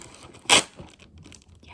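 A tripod and ring light package is torn open by hand, one short sharp ripping burst followed by faint crinkling of packaging, close and quiet.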